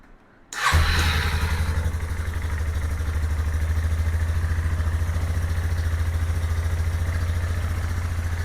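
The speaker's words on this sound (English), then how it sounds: "I'm going to turn the key switch on. I'm going to start it. I'm going to let it idle for just a little bit." A 2001 Yamaha Bear Tracker 250 ATV engine cranks and catches, then settles into a steady, loud, close idle with a rhythmic clatter that continues unbroken throughout.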